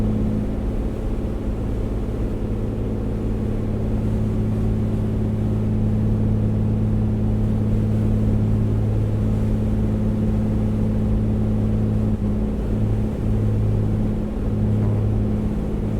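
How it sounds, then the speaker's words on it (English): Piper Comanche 250 aircraft engine running rough in Microsoft Flight Simulator, a steady loud droning hum with faint wavering in pitch, continuous and close, without talk. "Engine's running a little rough."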